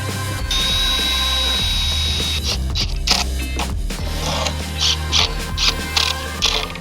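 A power driver sinks screws into timber scraps to fix fins onto a homemade billy cart, a loud close motor whine followed by a series of short ratcheting bursts in quick succession.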